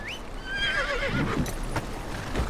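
A horse in a Game of Thrones video game whinnies loudly in a rising then shaky, descending call, with faint hoof clatter and rustling behind it.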